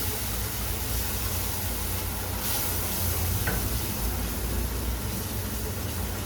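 A mixture poured into hot butter in a pan sizzles and fries steadily and loudly throughout, with a brief stirring scrape partway through and no talking.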